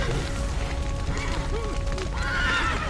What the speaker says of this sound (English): Horses! Gotta let him out!